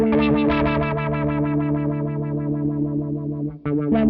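An OBNE Float dual moving filter pedal sweeps a sustained, distorted tone with its cutoff lowered, giving a warm, pulsing, swirling drone that repeats rhythmically before a short dip and return near the end.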